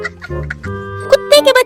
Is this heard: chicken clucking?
yes